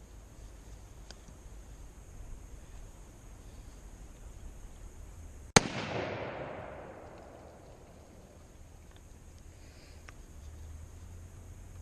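A Remington 770 rifle in .30-06 fires a single shot at a block of ice outdoors: one sharp, loud crack followed by a rolling echo that fades over several seconds against quiet background noise.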